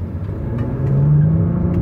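A car rumbles past nearby, a low engine swell rising around the middle and holding briefly, with no talk over it.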